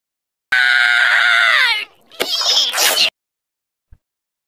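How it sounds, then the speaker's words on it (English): A SpongeBob SquarePants cartoon character lets out a loud, shrill scream that holds steady for over a second, then breaks into a second ragged, rising shriek before cutting off abruptly. "Screaming, teriakan."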